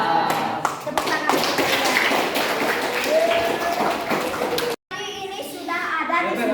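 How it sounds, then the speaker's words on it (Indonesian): Children clap their hands in a classroom, a dense burst of sharp claps filling most of the stretch with a short gap near the end, mixed with young voices and chatter. "Tepuk tangan."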